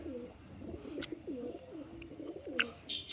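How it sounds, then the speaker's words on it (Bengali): Captive pigeons coo in a repeated series of low, soft, rolling calls, fairly close and steady over a quiet background, with a few faint chirps in between. "আমার জিরিয়াগুলো ওর কাছে ডাকছে"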